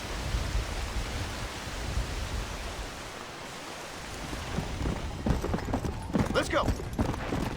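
Hooves of a zombie horse in the Red Dead Redemption video game, a steady clip-clop of galloping under a constant rain-like hiss, growing busier and sharper toward the end.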